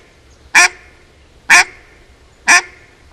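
Three evenly spaced short quacks from a duck call blown with no voice behind it, mimicking a young duck; each note is bright, clear and close, with quiet pauses between and no talking.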